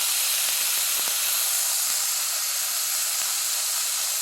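Small shallots sautéing in a pan with a little salt, a dense, even hiss of sizzling oil held at one loud level for the whole stretch, without speech.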